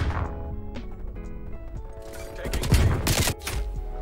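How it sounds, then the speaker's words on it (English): Rapid XM4 rifle fire with tracer rounds in Call of Duty: Black Ops Cold War, a loud burst of shots peaking midway over game music and effects. "We're gonna see what we can do with this Tracer round XM4."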